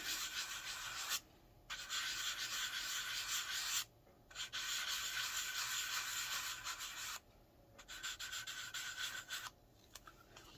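Sandpaper scrubs across the cover of a worn, grungy journal in steady back-and-forth strokes, a close dry rasping that pauses briefly three times, with no talking.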